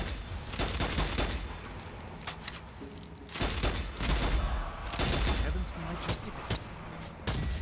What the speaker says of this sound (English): We use up quite a lot of ammo in the